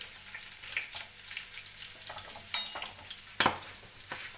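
Garlic and red chilies fry in a pan, a soft steady sizzle broken by scraping stirs and a few sharper clinks of a spoon, close and alone with no voices.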